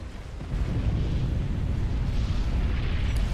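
Dense rumbling barrage of naval battleship fire and explosions in Supreme Commander: Forged Alliance, continuous heavy booms rising in loudness after a moment and rolling on steadily.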